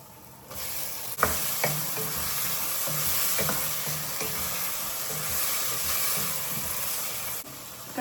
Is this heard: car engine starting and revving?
no